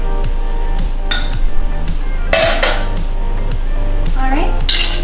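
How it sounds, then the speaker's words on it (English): Food mixed with half and half in a bowl: repeated close clinks and scrapes of a utensil against the bowl in a busy, steady rhythm, with some brief rattling. "I'm gonna go ahead and mix that up. With our half and half."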